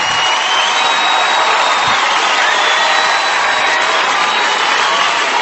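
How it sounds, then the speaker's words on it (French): A television studio audience applauds and cheers loudly and continuously, a dense roar of clapping and whoops. "Ils méritent vos applaudissements."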